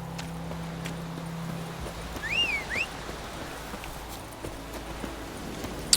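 Hooves of Roach, a horse in The Witcher 3 video game, clip-clop softly at a walking pace under a quiet ambient bed, with a brief whinny-like call midway and no talking.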